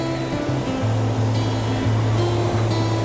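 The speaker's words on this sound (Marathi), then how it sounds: "हे बघा खालती केवढं पाणी सोडलं आहे." Heavy rush of water released downstream from a dam near a riverside temple monastery, a steady loud broadband roar that continues without a break.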